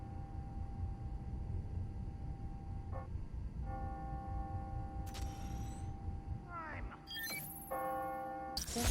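Bells ring on the hour in the video game Spider-Man: Miles Morales, tolling tones that sound amid city ambience and game effects, moderately faint under a background rumble.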